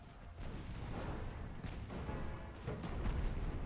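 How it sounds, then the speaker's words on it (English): Launch of a torpedo from a warship in Ultimate Admiral: Dreadnoughts, a dull rumbling whoosh and boom that stays heavy and sustained for a few seconds. "Torpedo away."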